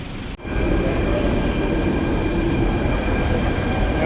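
A metro train stands at a metro station: a loud, steady rumble and hum from the carriages begins after a brief sharp click near the start and continues without talk.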